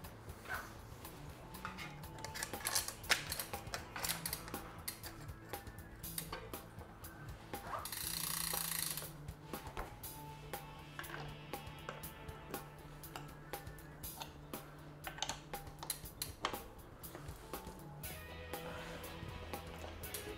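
A bicycle crank bolt is tightened to torque during CeramicSpeed bottom bracket servicing, with faint, close ratcheting clicks and small mechanical ticks in an otherwise quiet room.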